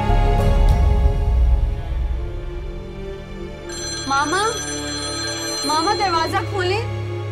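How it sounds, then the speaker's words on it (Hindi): A telephone ringtone chirps in repeated warbling bursts during a call being placed, starting after a low rumble and heard alongside speech. "बहरहाल तुम वकास को फोन करके देखो कि अभी तक वही है क्या।"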